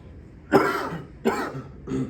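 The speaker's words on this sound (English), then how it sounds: "Excuse me, I've got a cough." Three short, close coughs, each a sharp burst that trails off, with brief pauses between them.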